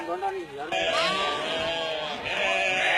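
Sheep on a farm on Swarnadwip island bleat in quavering, wavering calls, close and fairly clear while a person talks over them.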